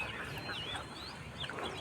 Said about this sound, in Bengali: ওই যে আরও পিছনে আরও অনেকগুলো হাঁস আছে।